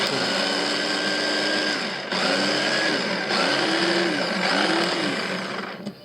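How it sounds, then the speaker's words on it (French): A kitchen blender whirs loudly in several short pulses while blending vegan wild garlic pesto with lemon juice. Its motor pitch dips and recovers between bursts. "Donc, coup de mixeur. Pas longtemps, en fait."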